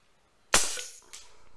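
A homemade CO2-powered airsoft gun fires once with a sharp, loud crack, followed by a quick ringing hit and a second fainter report or impact a moment later.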